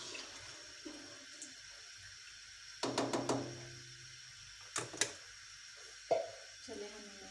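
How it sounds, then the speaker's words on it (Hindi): About four cups of water, partly the leftover liquid from boiled chickpeas, go into a cooking pot for chana pulao, heard as intermittent close splashes and pours with a few knocks of the vessel, and a faint voice in the background. "ये तकरीबन 4 प्याले हमने इसमें पानी ऐड कर दिया।"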